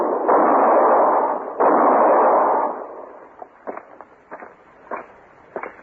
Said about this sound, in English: He was going to shoot Mr. Hinkle